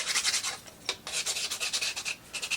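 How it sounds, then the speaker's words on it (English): A file or sandpaper rubs back and forth over rough plastic marble run parts, giving close, quiet rasping strokes in a quick regular rhythm with a brief pause, with no voices. "I say sand, file it down"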